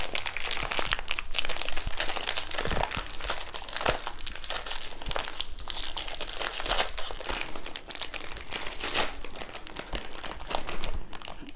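Crinkly plastic wrapping of a British operational ration pack tropical mix of nuts, coconut and dried fruit being opened, with dense, continuous crackling and rustling close by for the whole stretch.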